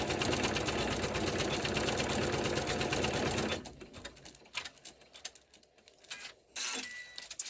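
An embroidery machine stitches a grid onto a quilted pouch, a fast steady mechanical rattle that stops after a few seconds and gives way to sparse clicks and a brief burst of running.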